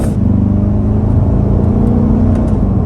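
A 2023 C8 Corvette accelerates with quick paddle shifts; a loud, close, continuous engine drone with steady harmonic tones holds from start to finish, heard from inside the car with no voices.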